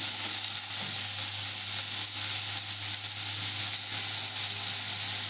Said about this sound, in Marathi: कांदा चांगला हलवून घेऊ